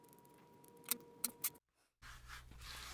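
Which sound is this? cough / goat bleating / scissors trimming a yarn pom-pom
scissors trimming a yarn pom-pom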